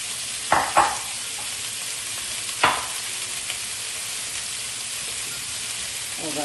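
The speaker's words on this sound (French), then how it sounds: "On met nos carottes pour faire cuire la mirepoix." A mirepoix of carrots, leeks and celery cooks in a pan with a steady, close sizzle and frying hiss. A few sharp scrapes of stirring break through the sizzle.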